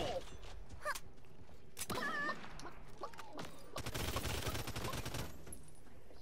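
Gunfire in the video game Realm Royale comes as scattered single shots, then a dense rapid burst of automatic fire, with game effects mixed in and a steady background bed.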